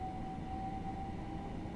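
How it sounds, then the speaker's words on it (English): Steady electric traction motor hum from a Class 387 Electrostar Thameslink train on the Chatham Main Line in Train Simulator Classic, a continuous even drone with a faint tonal whine, heard alone. "Do love the hum of the motors."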